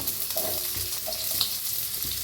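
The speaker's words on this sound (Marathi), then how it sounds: "अद्रक बी हलवून भाजून घेऊया" Ginger and onion roasting in oil while being stirred, a quiet steady sizzle with a few light scraping strokes over a short stretch.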